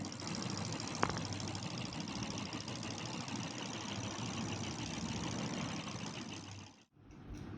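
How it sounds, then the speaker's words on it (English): A small electric motor in a homemade student build runs with a steady, close, buzzing whir that holds evenly for nearly seven seconds before briefly dipping and resuming. "Now we have the motor up and running."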